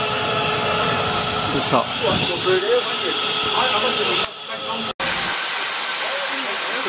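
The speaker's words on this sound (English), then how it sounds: "Turn the steam on. There we go, injector's working." Vertical steam injector running once the steam is turned on, giving a loud, steady roaring hiss with a brief dropout near the end, while someone talks over it.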